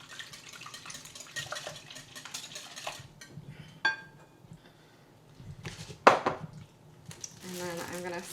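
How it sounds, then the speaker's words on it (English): Whisking a breakfast casserole mixture in a bowl, with uneven bursts of clinking and sloshing and a few sharper knocks against the bowl. Someone speaks over parts of it. "when you're whisking, you're wanting to incorporate air into your mixture"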